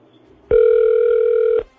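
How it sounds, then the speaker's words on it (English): A steady electronic telephone ring tone sounds once, about a second long, loud and clear against near silence, starting and stopping sharply. "3 rings."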